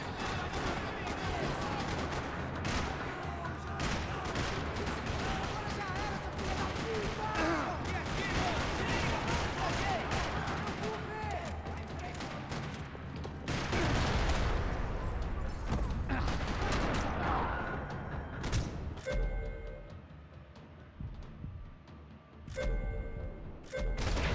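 Gunfire rattles through a parking lot in the video game Max Payne 3, a dense stretch of rapid shots and thuds that thins into scattered bursts, with voices heard now and then.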